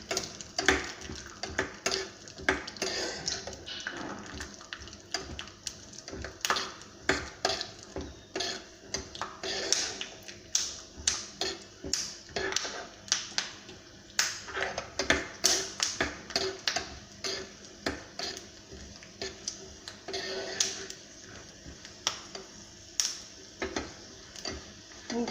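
Peanuts being dry-roasted and stirred in a pan over medium heat, a steady run of small clicks, taps and scrapes close by as the nuts rattle against the metal, with no talking.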